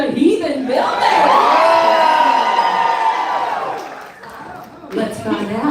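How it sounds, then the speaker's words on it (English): Spectators at an Alaskan lumberjack show yelling and cheering in a sustained loud swell that tapers off, followed by scattered shouts and chatter. "keep on cheering to keep up the energy for the next event"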